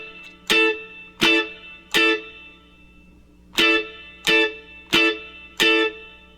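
Electric guitar with distortion, chords struck with single strokes rather than down-up strumming: seven separate loud hits, each ringing and decaying, in two groups separated by a brief pause.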